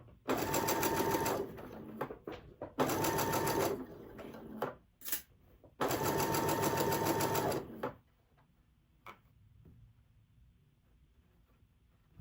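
Electric sewing machine stitching quilt fabric pieces, loud close whirring bursts of rapid needle strokes in three long runs separated by short pauses and handling clicks, then near silence.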